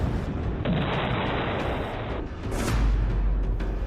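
A missile blast in war news footage from the Russia–Ukraine conflict: a loud, sustained roaring rumble with a heavy low boom swelling near the end, with no talking.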